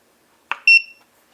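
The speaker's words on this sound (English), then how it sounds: "And it beeps. It tells you it's on." A single short electronic beep sounds after a soft click as a portable power station switches on, clear and close, then silence.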